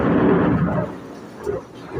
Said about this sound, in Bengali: এখন কিন্তু জোরে জোরে বাজ পড়ছে, আবার মেঘও ডাকছে, আবার বাজও পড়ছে।